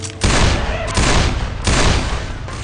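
Loud bursts of gunfire from pistols ring out in a chaotic action scene, three heavy volleys in quick succession filling the soundscape.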